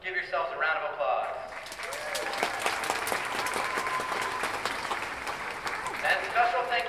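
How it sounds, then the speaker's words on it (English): Audience applause at the SJSU Marching Band concert in 2019, a dense wash of many hands clapping that swells after a short lead-in and holds steady and loud throughout, with a little crowd noise mixed in. "Give yourselves a round of applause."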